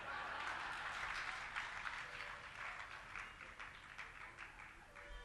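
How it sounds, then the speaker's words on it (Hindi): Audience at a religious discourse claps, a soft, distant, steady wash of many hands that slowly thins out over several seconds. "तालियां बजा रहे हो?"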